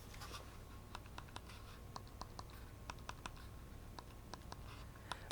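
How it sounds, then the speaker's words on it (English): D-pad of a PDP wireless game controller pressed repeatedly, giving crisp, quiet clicks at an irregular, fairly quick pace. The clicks sound close but faint over a low background hum. "is somewhat clicky."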